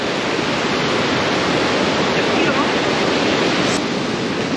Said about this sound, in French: On est entre deux torrents, celui de droite, les cascades de gauche qui en font un autre.